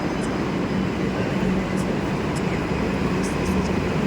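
Kolkata metro train running after leaving Dum Dum, a loud continuous rumble and roar inside the carriage with faint squeals, with no talk over it.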